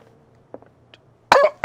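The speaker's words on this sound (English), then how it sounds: "That was good timing to cough" A single loud, close cough bursts out after a few faint, scattered sounds in an otherwise quiet room, followed by a short second rasp.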